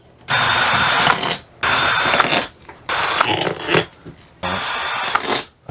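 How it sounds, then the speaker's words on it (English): A power tool loosening clamp bolts on a Coleman rooftop air conditioner, running in four loud, close, sustained bursts of about a second each, with brief pauses and rattling between them. "So let's get them bad boys loosened up."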